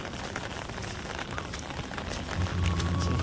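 Rain falling steadily on a surface with an umbrella held overhead in rural Konkan near rice fields, a soft even patter filling the whole short stretch, a low hum joining near the end.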